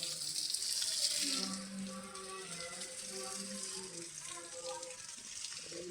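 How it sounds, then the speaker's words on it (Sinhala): Running water splashes steadily onto a betel vine plantation, louder at first, while a person speaks over it. "හැමදාම මේකට උදේ හවස මේවට වතුර දානවා"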